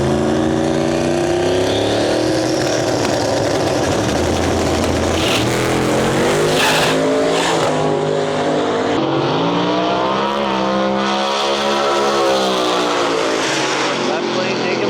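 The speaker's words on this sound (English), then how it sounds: "driving the G-Body Malibu nitrous car" A 4th gen Camaro and a G-Body Malibu nitrous car race at a drag strip. Loud, unbroken engine roar rises in pitch as they accelerate and shift, with a track announcer talking over the noise throughout.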